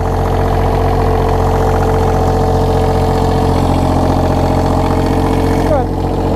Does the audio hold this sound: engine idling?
yes